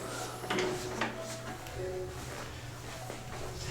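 A lift-up lid on a horse-racing-themed storage unit in a Disney Saratoga Springs resort hotel room opens with a couple of soft clunks and creaks over steady low room hum.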